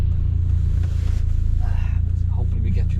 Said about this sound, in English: maybe you can hear the engine a little bit.